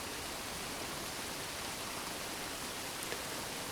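Rain falls as a faint, even hiss, a steady wash of drops with no pauses and no voices over it.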